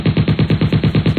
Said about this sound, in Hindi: जब न्यूज देखते हैं तो गोलियां सच में चलती हैं